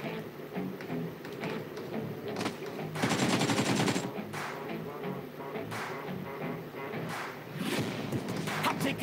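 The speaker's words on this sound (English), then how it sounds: "taking shots at the enemy" Rapid gunfire from the battle-royale game BGMI, dense bursts over a busy mix with background music, loudest around the middle and again near the end.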